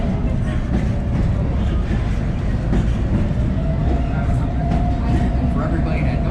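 A passenger train on the Jim Thorpe railway rumbles steadily with constant low clatter and a faint high whine throughout, with riders' voices murmuring under the noise.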